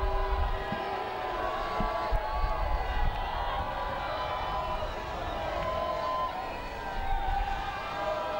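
A rugby crowd at a cup match roaring for a successful conversion kick, a sustained, fairly loud mass cheer from a distance with scattered shouts, while a commentator talks over it.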